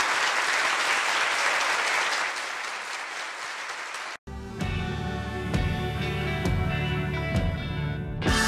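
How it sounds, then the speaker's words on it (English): An audience claps after a lecture on the Cayce material, loud dense applause that fades, breaks off briefly, then gives way to music. "Another round of applause for John Van Auken."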